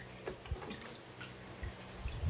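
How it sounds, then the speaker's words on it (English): Water is poured into an orchid pot set up for semi-hydro growing, producing soft, scattered splashes and drips, fairly faint and close, with no voices. "So I'll just put some water in it"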